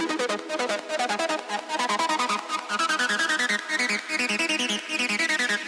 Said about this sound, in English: So here we have the acid line.